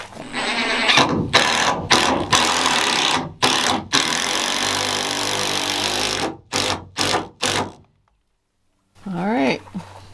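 A power screw gun driving screws into wood whirs in a series of short, loud bursts close by, with pauses between them and a rising motor whine near the end.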